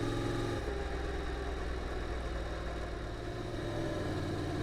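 Honda DCT motorcycle engine chugging in third gear around a corner, a steady, close, low drone that stays even throughout with no voices.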